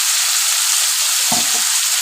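Fish frying in a pan with turmeric sizzles in a dense, steady hiss, with a brief low thump partway through.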